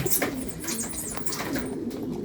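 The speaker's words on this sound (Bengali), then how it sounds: "সব কবুতর আসতেছে আর এই যে সব বাসের মধ্যে বসতেছে" Pigeons coo repeatedly at close range as a flock flies back into its loft and settles into the nest boxes, which have no landing board. Soft, overlapping throaty calls continue throughout with faint background rustle.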